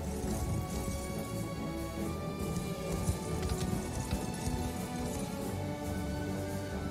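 Steady galloping horse hooves from the video game Unicorn Overlord, a dense continuous clatter mixed with game music and ambience, with no talking.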